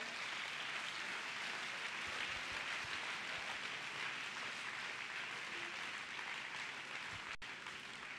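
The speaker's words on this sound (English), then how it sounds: "Clap your hands unto the Lord." A church audience at a district family camp service claps hands in a dense, steady wash of applause that holds at an even level for about eight seconds, with no talking over it.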